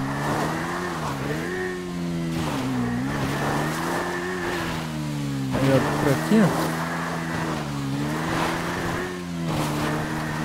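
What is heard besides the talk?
motorcycle riding in GTA 5 Online video game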